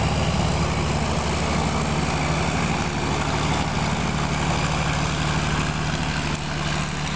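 A boat engine running at full throttle, a loud, steady, continuous drone with a deep throbbing hum, heard alone and close.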